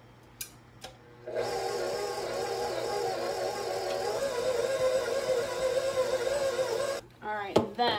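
Food mixer whirring with half an onion inside, a steady motor hum running for several seconds after a couple of clicks, then stopping as a voice speaks at the end.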